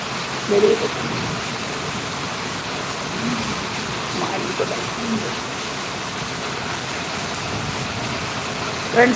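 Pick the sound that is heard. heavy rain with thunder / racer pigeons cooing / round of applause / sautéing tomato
heavy rain with thunder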